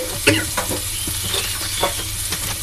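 Chili powder being stirred in a sizzling pan of hot oil, a continuous close frying hiss broken by scraping spatula strokes and small knocks against the pan.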